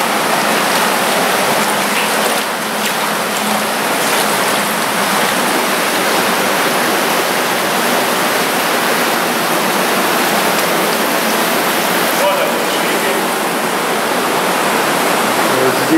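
Treated water from a sewage aeration station rushing into an underground sewer collector, making a loud, unbroken broadband roar that echoes in an enclosed tunnel.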